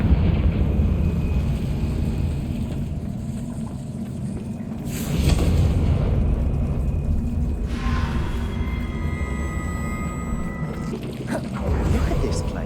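A Confringo blasting spell explodes in Hogwarts Legacy on PS5, a deep rumbling burst rising over a low continuous drone, followed by further crackling blasts, with voices speaking through it.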